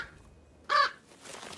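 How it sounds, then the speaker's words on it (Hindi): A crow hidden close by gives a single loud, harsh caw, brief and alone against a quiet background. "पास में एक कौवा छिपा हुआ है जो जोर जोर से कांव कांव कर रहा है।"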